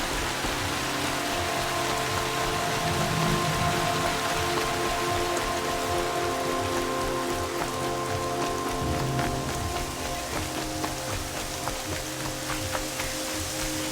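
Steady rain falls in the video game Horizon Zero Dawn, a dense, even hiss of drops pattering on surfaces that holds constant throughout, with a faint low tonal hum from the game underneath.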